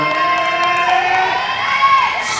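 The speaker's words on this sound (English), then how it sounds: "Crowd is getting behind her." Crowd cheering and whooping at a world classic powerlifting championship, a loud, sustained roar with shouting voices throughout.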